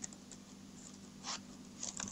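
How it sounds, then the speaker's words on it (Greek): Someone types on a computer keyboard, producing a few scattered light key clicks over a steady low background hum, faint and close, with no talk. "θα πληκτρολογήσετε"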